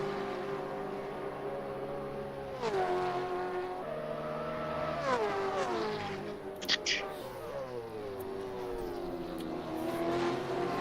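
V8 Supercars race cars screaming past on a circuit, engines rising and falling in pitch as several cars sweep through in close succession, loud and continuous, with a commentator talking over them.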